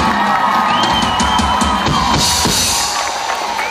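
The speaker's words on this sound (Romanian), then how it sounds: "Și vreau să aplaudăm Tulcea" An outdoor concert crowd at a city festival in Tulcea cheers, whoops and claps loudly, a dense roar of many voices with scattered shouts and whistles rising and falling without a break.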